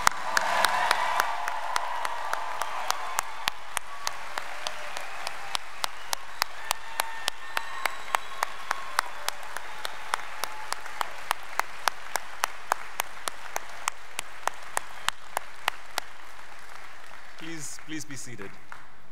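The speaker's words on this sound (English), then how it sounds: "Let's give them one more round of applause." Graduates receive a long round of applause at a Penn State Altoona spring commencement ceremony, fuller at first and then settling into sharp, evenly spaced claps that continue steadily until a short burst of noise at the very end.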